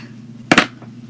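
Wreath material for a spring farmhouse wreath is trimmed with a single sharp, close snip-and-crunch lasting a fraction of a second, set against a quiet steady background hum.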